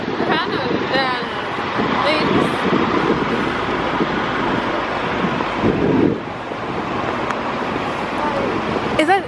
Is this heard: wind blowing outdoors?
yes